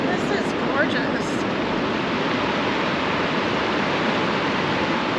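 Mesa Falls, a waterfall in Idaho, heard as a steady, close, broadband roar of rushing water that never lets up, with no talking over it.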